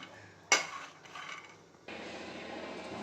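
Red chillies and cumin dry roast in a pan, with a sharp metallic clink of a utensil against the pan, a few soft scraping stirs, then a faint, steady low crackle of roasting.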